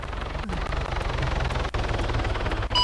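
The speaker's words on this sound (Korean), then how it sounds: "상공에서 헬기" A helicopter in Arma 3 passes overhead, a loud continuous rotor and engine roar that stays steady throughout with a couple of brief dips.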